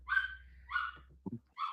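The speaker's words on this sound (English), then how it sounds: "That dog is starting to irritate me." A dog barks three times over a faint low hum, with brief low thuds or knocks between the second and third barks; no talking is heard.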